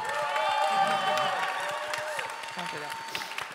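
Audience applause at a TransNation Festival 2016 award acceptance speech, a steady crowd clapping that rises and then slowly tapers, mixed with a voice and tonal sound over it.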